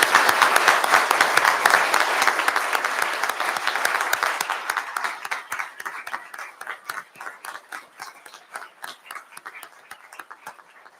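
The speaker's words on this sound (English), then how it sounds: "Let's give one last round of applause to all our recipients today." An audience at a Government House investiture ceremony applauds the award recipients, loud sustained clapping from a crowd that gradually thins to scattered, fading claps.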